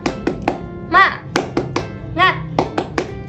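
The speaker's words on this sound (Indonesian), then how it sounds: "Tepuk semangat." Primary school class performing the 'tepuk semangat' clapping chant: a rhythmic run of sharp, close hand claps in a set pattern, broken twice by children's voices chanting together.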